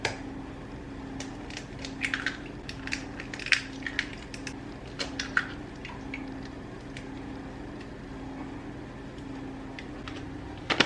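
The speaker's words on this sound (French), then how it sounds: "On va commencer par casser les œufs." Eggs are cracked for a butternut squash tart: scattered sharp, quiet shell cracks and light taps over a low, steady background hum.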